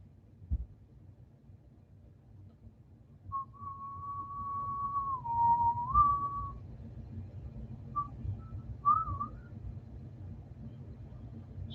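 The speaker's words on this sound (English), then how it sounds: "Sorry, I'm not supposed to whistle." A person whistling indoors: a single sustained whistled note bending slightly down, then a couple of short chirpy whistles after a pause, over a faint low background hum.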